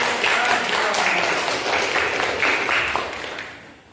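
Classroom applause for a student's correct answer in a computer technology lesson, a short burst of many hands clapping together that fades toward the end.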